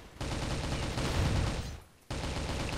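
Dense automatic gunfire from the video game Crossfire rattles continuously at close range, breaks off briefly, then resumes, with no talking over it.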